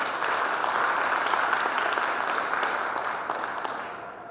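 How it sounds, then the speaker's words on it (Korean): Audience applause at a Korean hometown association's officer inauguration and retirement ceremony, a dense wash of many hands clapping that holds steady and then gradually fades. "큰 박수 한번 부탁드립니다."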